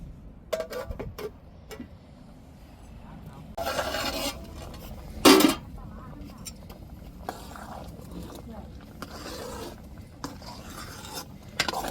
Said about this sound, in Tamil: இப்போ தட்டை போட்டு மூடிடுவோம்